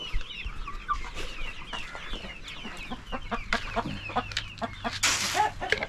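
Farm flock of chickens, including Ispenç roosters, clucking and calling continuously at close range, with overlapping bursts of higher squawks and a brief louder flurry near the end; no talk.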